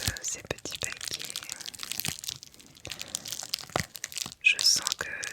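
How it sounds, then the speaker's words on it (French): Close, crisp crinkling and tearing of wrapping paper and plastic packaging around handmade candles, in irregular rustling bursts with occasional sharper crunches and soft sounds between them. "J'aime beaucoup tous les petits sons qui sont créés à l'ouverture de ces petits paquets."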